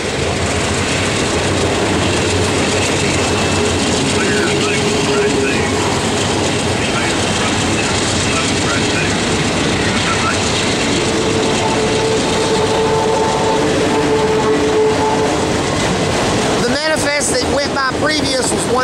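Norfolk Southern freight train 27A of empty autorack cars, led by a Union Pacific AC44 locomotive, rolls past near Mableton with a steady, loud rumble of wheels and cars lasting throughout, ending in a brief burst of sharper clanks.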